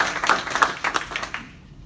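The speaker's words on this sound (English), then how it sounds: "applause." A small audience applauds at an EXIT Realty Achieve agents gathering honoring Susan Hamblen, a brief burst of uneven hand claps that fades out after about a second and a half.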